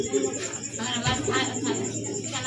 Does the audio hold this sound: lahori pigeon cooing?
yes